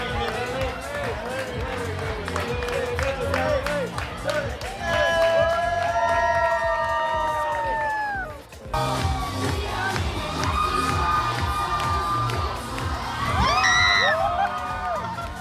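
A loud crowd cheers and whoops at a drag queen show in California, a dense sustained roar with high shouts rising over it, briefly dipping midway before surging again.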